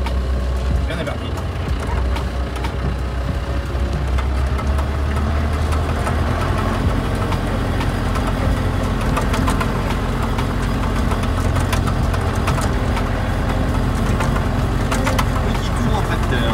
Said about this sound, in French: Petit tour en tracteur.